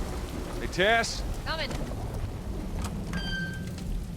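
A rain-soaked thunderstorm in The Last of Us keeps up a constant wash of rainfall and low rumbling, while brief voiced sounds and a short tonal blip rise over it.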